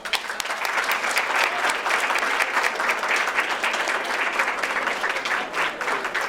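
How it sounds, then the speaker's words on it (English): Dense, steady applause from a large audience at a Republic Day celebration, continuous and loud throughout with no voices breaking through. "Please join me in applauding her."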